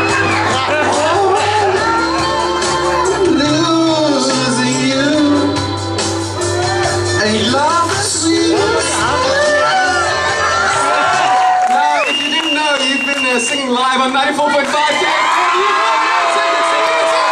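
An audience at a ticket giveaway claps and cheers, with loud crowd noise, whoops and shouts running throughout, mixed with music playing.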